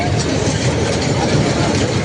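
A dragon train ride rumbles along at an exhibition ground, a loud, continuous low mechanical drone and rattle heard up close without a break.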